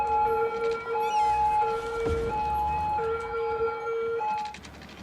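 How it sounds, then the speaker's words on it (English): A wailing emergency siren in the Cities: Skylines city-building game, sustained steady tones cycling across the clip alongside busy game-world background noise, moderately loud with no talking. "that siren's like nails on a chalkboard"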